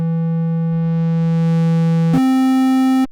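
Baby Audio BA-1 synthesizer playing a sustained, bright, harmonically rich note with drive distortion, then stepping up to a higher held note before cutting off abruptly, loud and close with no voices.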